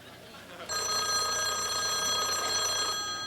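An old telephone bell rings in a bright, continuous electric trill that starts abruptly after a moment of quiet and keeps going to the end.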